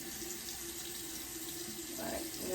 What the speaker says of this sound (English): now we're just gonna wash it. I'm gonna use colder water.